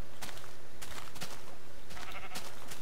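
Sheep in a farming video game bleating several times in quick succession, close and loud over a dense, continuous background.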